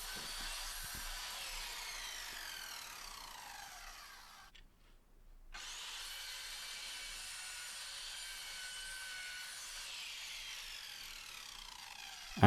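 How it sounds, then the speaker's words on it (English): A miter saw cuts pallet wood pieces for a rustic storage box, with two long, loud whining cuts separated by a brief silent gap and a spin-down at the end. "I then cut down all the pieces on the miter saw."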